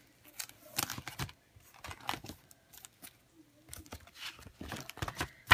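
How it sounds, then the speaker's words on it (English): Scissors snip through a paper planner page in short, quiet crisp cuts scattered across the moment, with faint rustling of paper between snips and no talking. "take your scissors and do a line, or just cut centrally downwards like so"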